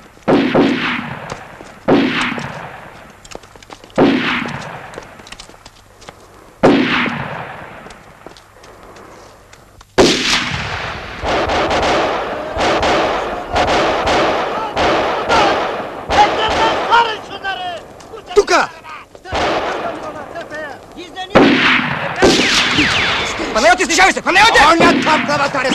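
Rifle gunfire in a battle during a Bulgarian uprising, with loud separate shots at first, then denser volleys and overlapping cracks, with shouting voices in the fighting.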